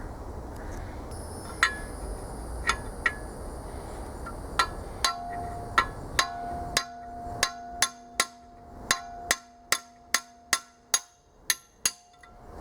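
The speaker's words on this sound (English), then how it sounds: "This is just a bolt and a hammer" Metal-on-metal hammer blows on a bolt drive the camshaft out of a rusty small block Chevy engine. Sparse ringing strikes settle into a fast, steady, close run of sharp clinks.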